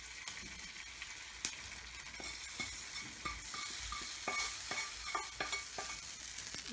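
Hot tempering with asafoetida meets ragi idli batter, making a soft, continuous sizzle. Scattered light clicks and stirring knocks sound through it at moderate, close volume.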